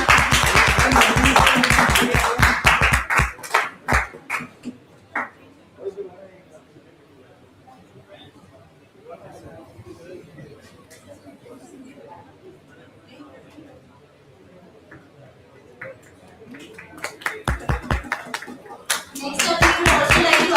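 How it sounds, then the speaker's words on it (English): Audience applause at a physiotherapy conference: sharp rhythmic clapping at the start dies away into quiet murmuring and chatter, then clapping picks up again near the end. "Please give ma'am a huge round of applause, everyone."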